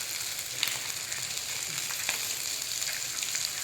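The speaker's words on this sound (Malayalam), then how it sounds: "അങ്ങനെ ചാള അവിടെ കിടന്നിട്ട് ഫ്രൈ ആവട്ടെ" Sardines fry in a pan with a close, dense, crackling sizzle that holds steady throughout, broken by small pops and spits, with no voices.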